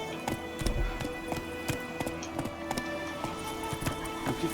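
Roach the horse gallops in The Witcher 3, with rapid rhythmic hoofbeats clopping steadily at moderate loudness over a continuous game ambience, no voices over it.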